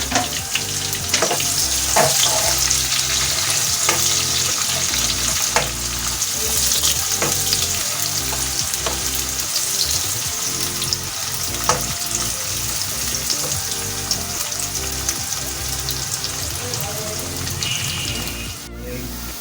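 Sliced onions sizzle and crackle steadily in hot oil, with occasional stirring clatter, loud and continuous throughout.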